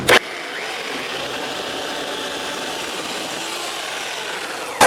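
A steady, continuous buzzing whine of a Hyper Tough 9-amp 14-inch electric chainsaw cutting through wood, constant and fairly close, with short louder bursts at start and end.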